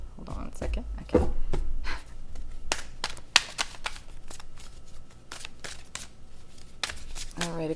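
Tarot cards are shuffled in quick, crisp bursts of riffling and snapping, close up and fairly loud, with a few sharper taps between.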